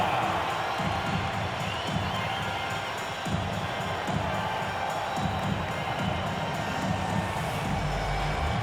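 A simulated basketball arena crowd in NBA 2K22 roars and cheers steadily throughout for a home win, a dense, sustained wash of noise with a faint voice mixed in.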